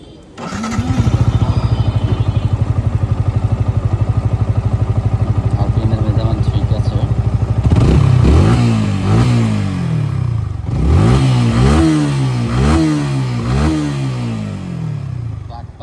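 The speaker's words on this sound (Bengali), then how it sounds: "বাইকের স্টার্ট করে আমরা আরপিএমটা চেক করে দিই" A Yamaha R15 V3 motorcycle engine starts and idles with a steady, loud putter, then is revved several times in rising and falling bursts close by.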